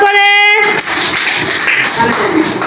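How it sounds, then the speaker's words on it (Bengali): Preschool children in a classroom clapping for a classmate, a brief voice followed by a burst of uneven, close hand claps with scattered taps and chatter mixed in. "ফারিয়ার জন্য একটা হাততালি দাও সুন্দর করে।"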